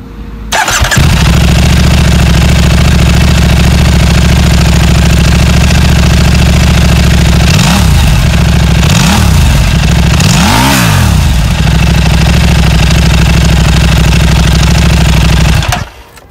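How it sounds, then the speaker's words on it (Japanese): A KTM RC8 twin-cylinder sport motorcycle idles with a steady, loud, close-up throb, broken by three quick throttle blips near the end before it settles back and cuts off. "あとはやっぱりこのツインのエンジンですね。 どこどこどこどこ走るんですけど、この音がめちゃめちゃいいっすね。"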